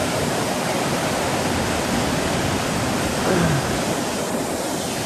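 Sainte Baudille waterfall at La Tour, a steady dense roar of heavy falling water at close range, continuous and loud throughout with no breaks.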